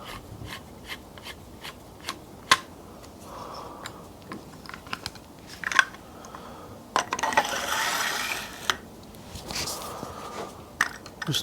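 A small screw is driven into a motorcycle throttle twist grip during a throttle cable kit fitting, heard as close, light clicks and ratcheting ticks, scattered and irregular, with a brief rubbing scrape midway.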